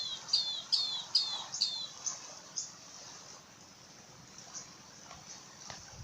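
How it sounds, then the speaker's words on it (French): A bird chirps in the video game Minecraft, a series of short, high, sharp tweets repeating at a quick, regular pace, then fading into a quiet, faint ambient background. "Vous l'avez entendu cet oiseau là?"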